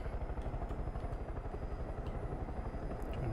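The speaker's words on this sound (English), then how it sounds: "I just landed my helicopter in your front garden." A helicopter in the video game Far Cry 5 comes in to land in a front garden, its rotor thudding in a steady, fast chop with an even engine drone, moderately loud and unbroken.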